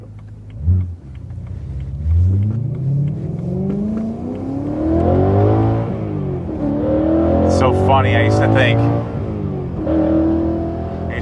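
A BMW E92 M3 engine revs and accelerates through rising and falling gear pulls on a short drive, loud and close, with someone talking over it throughout.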